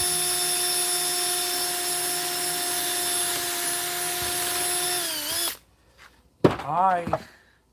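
A power drill whines steadily at close range while boring a hole in the muffler shroud of an Echo leaf blower, then stops abruptly; after a short pause a voice speaks briefly.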